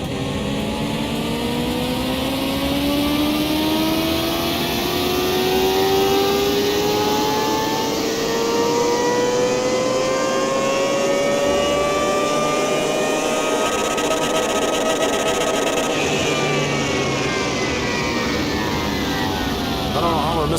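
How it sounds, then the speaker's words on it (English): A car engine revving on a dyno in Car Mechanic Simulator 2021, rising in a long, continuous whine as the revs climb steadily, loud and sustained with talk over it. "That's a very unique sound to that engine."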